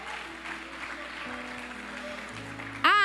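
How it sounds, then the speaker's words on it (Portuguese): Congregation applauding in a church service, a steady broadband wash of clapping with organ or keyboard tones sustained underneath, ending in a louder swell of music. "se aplaude a Deus."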